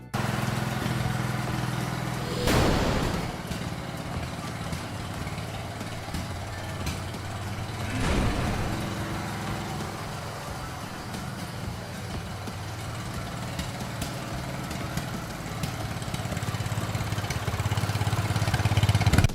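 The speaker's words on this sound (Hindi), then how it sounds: "इस ट्रैक्टर को देखें, ये किसी रेसिंग कार से भी ज्यादा तेज भागता है" A tractor engine runs fast in a steady, loud mechanical drone, with two brief louder surges early on and no voices.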